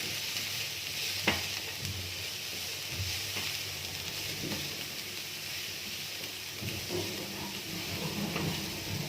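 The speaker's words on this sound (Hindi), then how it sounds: "साथ हम इसमें ऐड करेंगे बंद गोभी, पत्ता गोभी जिसको आप कहते हैं ये। और तो थोड़ा सा मिक्स कर लेते हैं।" Shredded cabbage being stirred into a sizzling vegetable mixture for samosa filling, sautéed over a medium flame: a continuous soft frying hiss under repeated scraping strokes of a spoon, close and steady, with no speech.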